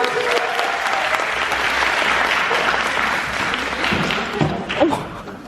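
A live show audience applauds loudly and steadily, a dense wash of clapping that continues throughout and tapers slightly at the end.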